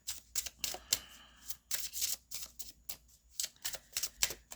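Tarot cards being slid and shuffled across a table during a reading: a string of short papery swishes and soft taps in irregular rhythm, close and fairly quiet, with no talk.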